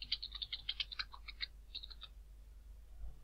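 Rapid keystrokes on a computer keyboard as a code is entered, a quick burst of crisp clicks for about two seconds, then quiet with low hum.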